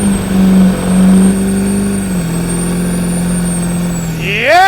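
Loud, close engine of a tuned car idling and droning on the road, with a low steady hum that shifts in pitch before a rising rev at the end. Faint voices may be present underneath.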